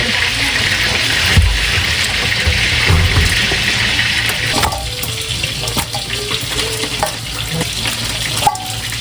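Running water splashing steadily from a tap while a freshly caught largehead hairtail fish is rinsed and handled in the sink, with occasional knocks and clatters.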